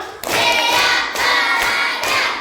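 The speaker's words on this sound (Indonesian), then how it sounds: "tepuk 5" A classroom of primary-school children claps a counted rhythm together, several short bursts of clapping close by, mixed with the children's chanting voices.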